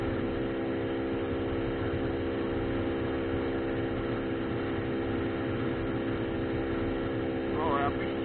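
A steady, low motorcycle engine drone hums evenly and fairly faintly throughout, with a short voice rising near the end.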